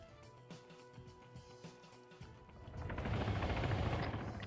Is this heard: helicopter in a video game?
yes